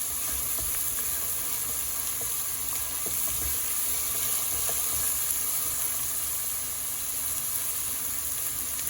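Onions frying in a pan with green chillies and salt, a continuous hissing sizzle close by, steady throughout with faint stirring and no talk.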